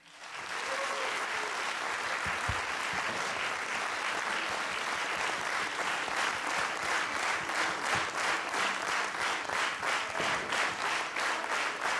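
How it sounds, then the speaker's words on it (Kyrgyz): Sustained audience applause at a traditional music and folk instruments orchestra concert, steady dense clapping that fills the hall for about twelve seconds, fairly distant and even, with no talk over it. "Биз 30 секундда бир кол чаап коелучу."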